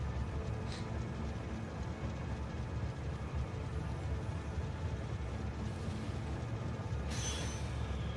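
A train rolls steadily in the Factorio video game, a continuous dense rumble with a few brief brighter squeals or hisses.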